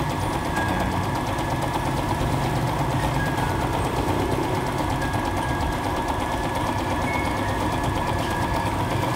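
A Brother sewing machine runs steadily, with a continuous fast mechanical whir and rattle at an even, unbroken pace.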